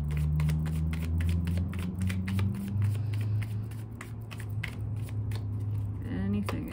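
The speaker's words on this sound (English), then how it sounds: "I'm shuffling." A deck of tarot cards being shuffled: a steady run of crisp, close clicking riffles and slaps, with a low voice humming or murmuring underneath for much of the time.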